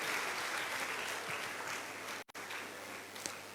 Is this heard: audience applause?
yes